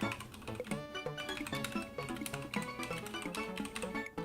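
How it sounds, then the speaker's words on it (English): Rapid, close typing on a computer keyboard, crisp key clicks in quick uneven runs over a soft background tone, with no talking. "Get some typing ASMR."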